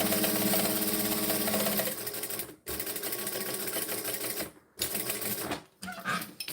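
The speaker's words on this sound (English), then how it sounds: "So we are going to stitch, and I'm going to do a top stitch, so really close to the edge," A sewing machine top stitches close to the fabric edge of a pouch, a rapid, loud mechanical rattle that runs steadily before briefly stopping and restarting in short bursts near the end.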